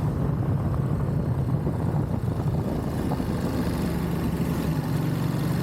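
A motorbike engine droning steadily and loudly while riding through curves, a constant low rumble with wind noise throughout and no talking.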